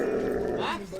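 A police patrol dog on crowd duty giving a low, rumbling growl, close and fairly quiet, lasting about a second and blending with background voices.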